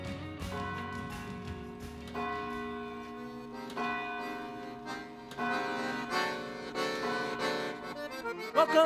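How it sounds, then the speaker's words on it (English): Church bells in New Braunfels ring in a sustained, resonant sequence of overlapping struck tones that swell louder toward the end, with no talking. "Many of the early bells are still around today, although only a few of them are used."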